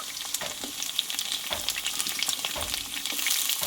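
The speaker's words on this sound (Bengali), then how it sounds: "এই ডাটাগুলো আমি আলুর সঙ্গে কষিয়ে নেবো" Pumpkin stems tossed with reddened potatoes in a hot pan with panch phoron, a close, crackling sizzle broken by repeated scraping stirs and clinks, continuous and fairly loud without any talking.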